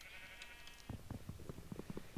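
Sheep in a video game bleat in a rapid string of short, clipped calls after a brief high whine, fairly close and moderately loud, with no talking.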